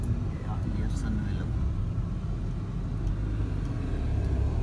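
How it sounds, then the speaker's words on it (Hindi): A car creeps slowly into a parking lot on a rain-soaked road, its engine and tyres making a steady, close, low rumble inside the cabin, with faint voices now and then. "बहुत एहतियात से गाड़ी चला रहे हैं।"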